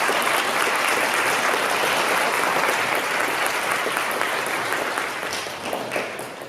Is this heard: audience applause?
yes